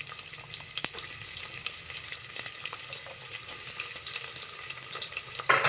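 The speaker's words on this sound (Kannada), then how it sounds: "ಚಟ್ಪಟ ಅಂದ ತಕ್ಷಣ ಈರುಳ್ಳಿ ಹಾಕೋಣ" Onions fry in hot oil with bay leaf and whole spices for mint pulao, a steady close crackling sizzle with scattered pops, continuous and alone.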